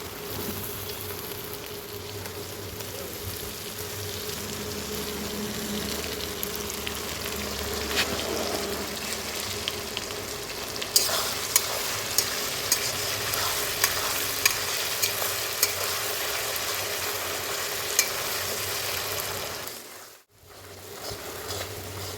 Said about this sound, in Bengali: এবার দিয়ে নেবো আদা রসুনের পেস্ট।